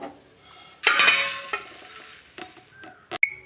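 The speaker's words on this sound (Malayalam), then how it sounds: "അതിൻ്റെ കൂടെ തന്നെ കുറച്ച് തേങ്ങയും കൂടി വന്നിട്ട് നമുക്കൊന്ന് മൂപ്പിച്ചെടുക്കാം" Flattened rice and coconut roasting in a pan, with a short burst of dry sizzling and stirring, then spoon scrapes and a couple of sharp metallic clinks against the pan, close and otherwise quiet.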